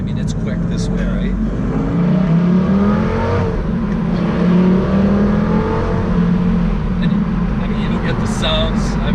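A Lamborghini engine drones loudly and steadily, rising and falling in pitch as it revs, with a voice talking over it.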